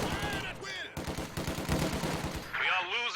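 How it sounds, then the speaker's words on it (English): Machine gun fire in the World War II strategy game Company of Heroes 2, rapid rattling bursts of automatic shots mixed with other battle sounds, fairly loud and close. "Burmese MG gets chased off there"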